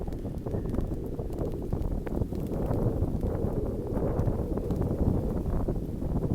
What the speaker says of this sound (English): I'm just waiting for the wind to die out so it doesn't affect the sound.